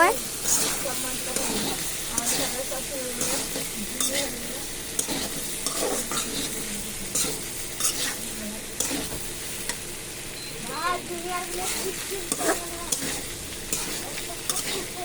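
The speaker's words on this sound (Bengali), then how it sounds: "তারপরে আমরা নেড়ে নেব, পাস্তাটা দিয়ে ভালোভাবে নেড়ে নেব" Pasta is stirred in a frying pan, giving a continuous sizzle with repeated scraping strokes throughout, close up, while a voice talks intermittently over it.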